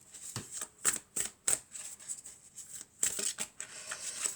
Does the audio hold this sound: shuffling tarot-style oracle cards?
yes